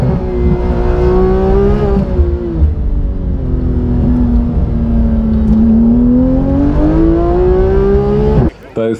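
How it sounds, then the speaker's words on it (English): Scramble bikes and sidecars racing on a track: a loud, steady engine drone whose pitch rises, falls and climbs again as the machines rev through the course, close and continuous, cutting off abruptly at the end. "you'll see the scramble bikes twice a day having their races"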